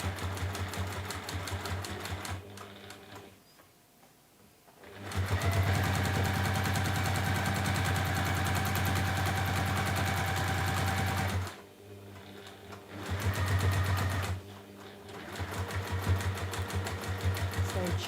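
A sewing machine top stitches a bunny pouch in long steady runs, stopping briefly twice between bursts of close, even mechanical whirring.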